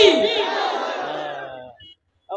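A large crowd roars a chant in unison in response to a Naara-e-Takbir call at a religious bayan gathering; one loud, sustained collective shout that fades out, followed by silence.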